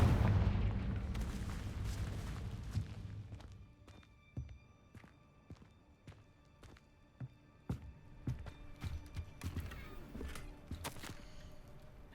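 Fire spell blasts in Hogwarts Legacy: a rapid series of sharp, booming impacts cracks out one after another over a rumbling combat backdrop, the bursts loud and close, with no talking.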